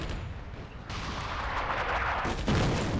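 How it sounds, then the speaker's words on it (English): Anti-tank guns firing in the North Africa wartime strategy game Attack at Dawn: booms and crackling gunfire with a low rumble, fairly faint and distant, rising toward the end. "when you're taking fire from the anti-tank guns"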